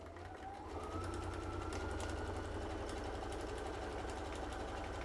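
A sewing machine stitches a long basting seam on fabric for a zip pouch, a steady fast mechanical whir with rapid needle clatter that starts up after a brief pause and runs continuously, fairly close and quiet.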